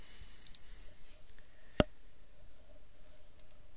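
One sharp computer mouse click sounds close and dry amid faint room hum while a LinkedIn settings page is used.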